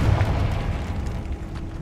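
Confringo blasting spell from the video game Hogwarts Legacy on maximum difficulty, heard as a short heavy booming explosion with a deep rumbling low end that fades quickly.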